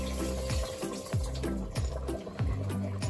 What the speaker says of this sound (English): So make sure that you drain the water till the last drop